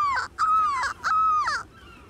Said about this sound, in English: Those are seagulls.